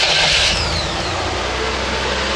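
A UltraVan engine during its initial break-in, idling high and fast with a slight surge, a steady close mechanical drone with no talk.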